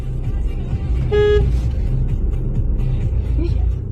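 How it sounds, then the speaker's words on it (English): A single short car horn toot sounds on a dark, empty street over a steady, loud rumble of a vehicle engine, with no voices. "He honked, but got no response."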